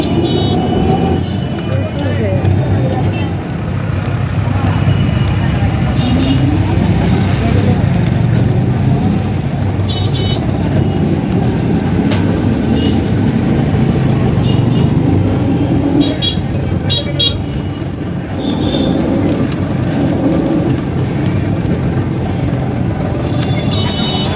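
Congested road traffic with idling and creeping cars and buses, a steady engine rumble throughout and an occasional horn toot, heard close by with people talking over it.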